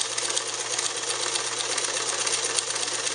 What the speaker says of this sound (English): I can make a shorter stitch, or a longer stitch, or I can go in reverse.